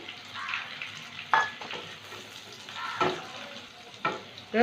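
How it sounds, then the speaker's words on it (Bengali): Onion and capsicum frying in a pan for chilli egg, a steady close sizzle with several louder bursts and stirring scrapes spread across the clip. "এবার বড় করে কেটে রাখা পেঁয়াজটা দিলাম, ক্যাপসিকামটা দিয়ে দিলাম।"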